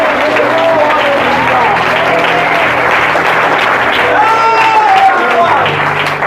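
A church congregation at a spiritual retreat in Switzerland breaks into sustained, full applause, loud and steady throughout, with voices and cheering mixed into the clapping.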